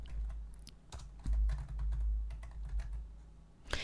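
Fingers type on a computer keyboard, a quick irregular run of soft key clicks with a few louder taps, close and clear with no talking.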